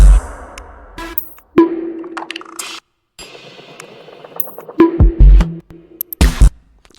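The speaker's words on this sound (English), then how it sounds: "Just a cool little weird like spaced out drum loop." A sparse, glitchy drum loop of clicks, pings and thumps is broken by abrupt gaps and filtered, spacey textures.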